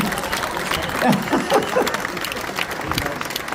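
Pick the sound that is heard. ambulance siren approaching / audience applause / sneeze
audience applause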